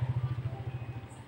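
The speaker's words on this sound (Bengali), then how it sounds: "মোটর সাইকেল যাচ্ছে" A motorcycle's engine runs with a low, steady pulsing throb, fairly faint and held at a constant level throughout the short stretch, with no voices.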